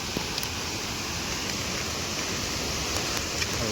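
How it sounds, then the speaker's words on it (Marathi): Heavy monsoon rain pours beside a small swollen stream on a hill fort trek, a loud, steady broadband wash of falling water with no pauses. "पाऊस पण खूप आहे"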